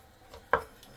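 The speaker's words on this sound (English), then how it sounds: "What I'm doing here is I'm chopping a potato." Knife chopping a potato into small pieces on a board, one sharp close cut with fainter taps before and after, in a quiet kitchen.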